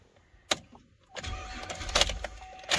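A Chevrolet Traverse engine cranks over without catching, a sharp click followed by a steady churning crank that grows louder, with a brief pause and further cranking near the end.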